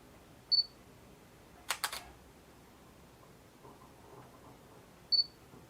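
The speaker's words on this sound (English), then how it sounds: "When I press the shutter button, it only focuses on the table." Soft electronic beeps bracket a quick double mechanical click of a Panasonic G6 camera shutter as it focuses, with faint handling noises in a quiet room.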